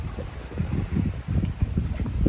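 A sailboat heeled over on a beam reach in a steady wind off Phuket, with a continuous low rushing of wind and water against the hull, loud, close and unbroken.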